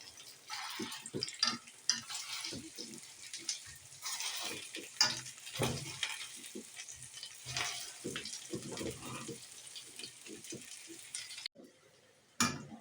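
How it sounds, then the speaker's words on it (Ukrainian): Semolina cakes sizzle and crackle in vegetable oil in a pan while utensils scrape and clink now and then, close and fairly quiet. "Маннички обсмажуємо на рослинній олії."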